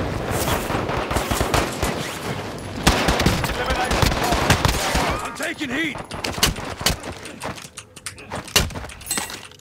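Rapid gunfire in a multiplayer shooter video game, dense bursts of shots over the first few seconds that thin into scattered single cracks, with players talking over the top.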